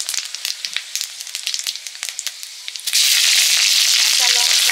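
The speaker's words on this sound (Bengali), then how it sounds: "সর্ষে শাক, তেল দিয়ে শুকনো লঙ্কা আর 5 ফোড়ন দিয়ে দিলাম" Dried red chillies and five-spice seeds pop and crackle in hot oil for a mustard-greens dish, then a sudden loud, continuous sizzle takes over as more goes into the pan.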